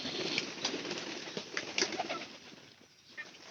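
A pigeon coos softly near a straw-lined nest, low throaty calls repeating in short runs, faint and close with light background noise.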